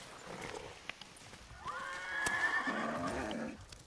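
A horse whinnies in the Ghost of Yotei video game, a rising, wavering neigh swelling out of quiet ambient noise midway and trailing off into lower snorts near the end.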